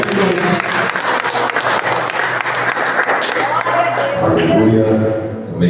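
A church congregation claps and applauds continuously, loud and close, with a voice speaking over the applause before the clapping thins into talk near the end.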